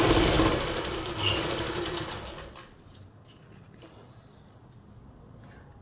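Sewing machine stitching along the edge of palazzo pant lining, a loud whirring run for about two and a half seconds that stops, leaving quiet room noise.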